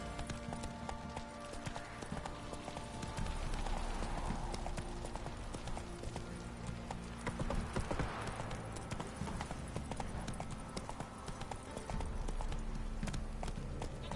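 Hooves of Roach, a horse in the video game The Witcher 3, clip-clopping steadily at a walking pace under a low ambient game drone, with no voices.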